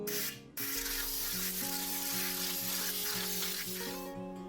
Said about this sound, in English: got in all the nooks and crannies with some sandpaper to smooth out the rough spots from the primer